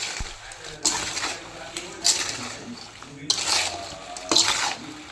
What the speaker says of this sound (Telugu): ఈ మొత్తము ఇలా మిక్స్ చేసుకోవాలండి